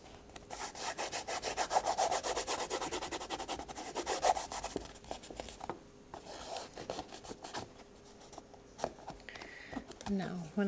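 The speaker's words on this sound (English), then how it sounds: "bring it up, turn it, burnish it with my fingers, make sure it stays there." Fingers rub and burnish folded cardstock for an anniversary card, giving soft, quick scratchy strokes in short bursts while a person talks over the work.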